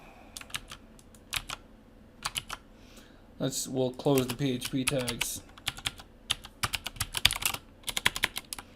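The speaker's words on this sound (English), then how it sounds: "my typing is horrific today" Rapid computer keyboard typing while coding a UserSpice plugin in PHP, clattering keystrokes in uneven bursts throughout, with someone talking over the middle stretch.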